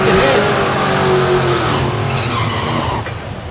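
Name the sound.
drag race launch, 1965 GTO versus 1966 Fairlane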